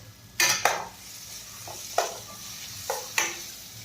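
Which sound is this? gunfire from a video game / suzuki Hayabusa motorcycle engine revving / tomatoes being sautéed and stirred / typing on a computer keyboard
tomatoes being sautéed and stirred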